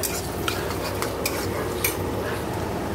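Onion and green chilli frying in white oil and butter in a kadai, a steady close sizzle with a spatula scraping and clinking against the metal pan.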